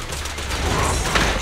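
Rapid gunfire from a Zenless Zone Zero battle crackles as a dense, continuous burst of shots with background game effects, brief and fairly loud throughout.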